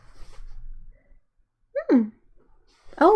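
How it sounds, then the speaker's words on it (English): A cat sneezes twice indoors, two short sharp bursts about a second apart, close and fairly loud, after a brief rustle at the start. "Cat sneeze."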